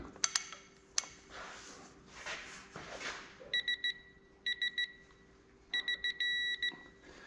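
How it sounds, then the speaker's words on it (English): An electronic device beeps in short, evenly spaced bursts of high tones, grouped in quick runs, after a few clicks and soft rustling. "Basically just beep, beep, beep, beep, beep, beep."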